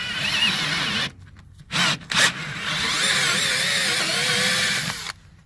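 A power drill bores holes through aluminum under the decking of a Bennington SX21 pontoon boat, loud grinding whine in bursts with a couple of short stops and restarts before cutting off.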